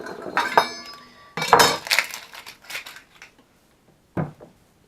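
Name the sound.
knife topping and tailing an onion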